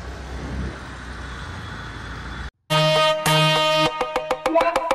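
A new Mahindra Thar being driven gives a steady rumble of engine and road noise for about two and a half seconds. Loud music then cuts in and takes over.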